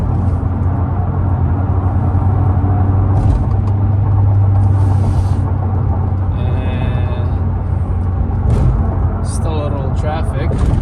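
Honda Accord with the muffler and resonator deleted accelerating in sixth gear on a highway, a loud steady drone and rumble heard from inside the cabin with road noise throughout and a few brief clicks near the end.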